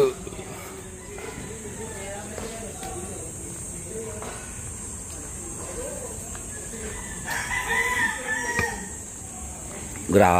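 A rooster crows in a street area used as a chicken pasture, with drawn-out calls rising in the latter half amid steady background hiss and people talking nearby.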